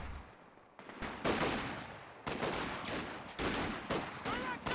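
Machine gun fire in the Company of Heroes 2 real-time strategy game, several loud bursts of rapid automatic shots separated by short pauses, with sharp cracks and fading tails.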